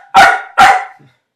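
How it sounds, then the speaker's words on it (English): A dog barking indoors in a house, two loud, close, sharp barks in quick succession, then silence. "I can't stay in this house with the barking"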